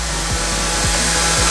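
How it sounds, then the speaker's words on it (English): A power sander works across a coffee table top made of scrap wood, a constant close whirring hiss broken by a few regular soft thumps. "then you start sanding the top."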